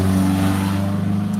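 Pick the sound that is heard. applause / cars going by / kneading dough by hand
cars going by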